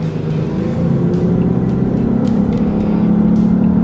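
A 2013 Lexus GS hybrid in Sport Plus mode revs its engine to about 3,000 RPM. The engine holds a loud, steady hum and drone, climbing slightly in pitch, heard close from inside the car.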